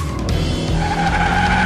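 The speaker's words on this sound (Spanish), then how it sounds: "Escucha los ecos y el sonido del motor." A cartoon car engine roars while tires squeal in a sustained skid, loud and continuous with no talking over it.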